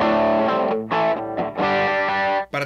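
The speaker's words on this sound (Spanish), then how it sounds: "voy a bajar el overdrive, el tono lo voy a dejar a la mitad y sueno así" An electric guitar runs through an overdrive pedal into a saturated amplifier with the drive turned down and the tone set halfway, playing loud, sustained distorted chords in a few strummed bursts with brief breaks.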